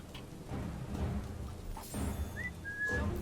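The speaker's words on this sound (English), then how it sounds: "Whistle." A short two-note whistle in Assassin's Creed Syndicate, faint and thin over a low rumbling game background, coming late in the stretch.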